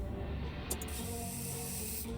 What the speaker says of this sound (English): Okay, stop spraying that. It's just spraying on its own now.